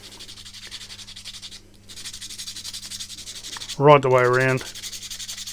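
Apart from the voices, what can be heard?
sanding the join of a Tamiya Boomerang RC car body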